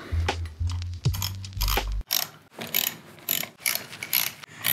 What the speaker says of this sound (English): So now they're all tight, we're just going to go around with a ratchet.